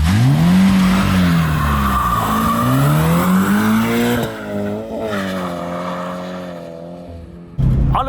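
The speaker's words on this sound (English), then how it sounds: "So, second gear, fully flooring it. Going back to first, handbrake, wave to Mani" A Toyota GT86 drifting at full throttle, the engine roaring loud and close with rising and falling revs while the tires squeal steadily, then a brief dip before the engine surges again near the end, no talking.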